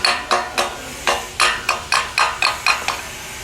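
A hammer chips slag off a fresh steel weld on a fabricated structural pillar, landing about eleven sharp, ringing metallic strikes in a fairly even rhythm, close and loud with no talking.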